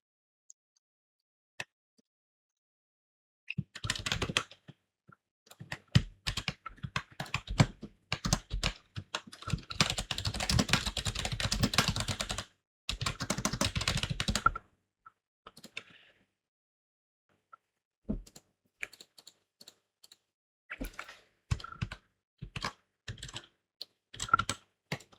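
Form data is typed on a computer keyboard into a web programming exercise, with bursts of fast, close keystrokes separated by quiet pauses and scattered single taps toward the end.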